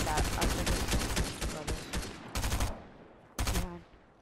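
Rapid gunfire in a shooter video game during a two-versus-one-versus-one match, with bursts of loud shots and sharp single reports standing out near the end.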